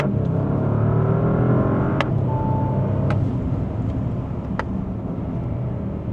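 A 2025 Bentley Flying Spur accelerating hard, a loud continuous engine roar heard from inside the car, with a few brief clicks over the steady drone.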